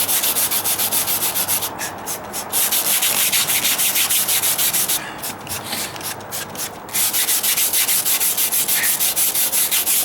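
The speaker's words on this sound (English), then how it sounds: "I don't think it's all going to clean with just this bristle brush." A bristle brush scrubs a stucco wall in fast, steady back-and-forth strokes, loud and close, with two short pauses where the rhythm breaks before the rough scraping picks up again.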